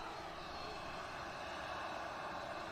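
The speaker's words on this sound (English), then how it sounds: "the aircraft carrying out flights on behalf of Jet2" Engines of a Maltese-registered passenger jet flying for Jet2, heard as a steady broadband roar held at an even level throughout, distant but filling the whole stretch with no voices.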